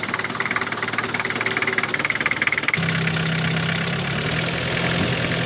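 A 1990 Daihatsu Taft Hiline 4x4 engine idling close by, a steady rough mechanical drone with a fast even pulse that shifts to a deeper, smoother hum partway through, with no voices.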